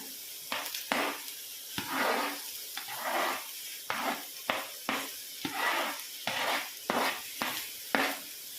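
Onions and mushrooms fry in a pan with a steady sizzle, broken by repeated scraping and stirring strokes at a regular rhythm, close and fairly loud.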